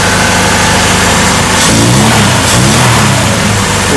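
A Sunbeam Talbot Alpine classic car engine revs hard and loud up close, a deep, throaty roar that swells and holds without break, with no voices over it.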